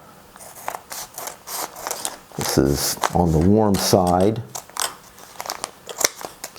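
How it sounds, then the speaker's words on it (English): Scissors snip and crinkle through a white rice pack in quick, close cuts, with a voice speaking briefly partway through. "I'm just going to take it off with a scissors here."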